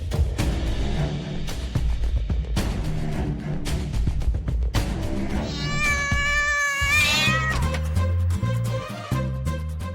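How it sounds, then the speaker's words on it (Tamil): A cat lets out a drawn-out, wavering meow partway through, over a busy background of clattering and music-like sounds, in a Tamil television drama scene. "உள்ள பூனை இருக்குங்க"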